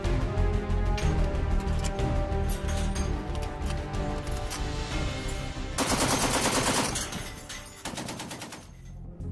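Naval live-fire exercise with rapid sustained automatic gunfire, dense rattling bursts that hammer on continuously and loud, shifting in character midway before briefly easing near the end.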